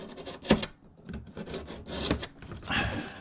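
Blade cutting through the end of an old leather gun belt, quiet uneven rasping and rubbing strokes in short bursts, close by with no talk.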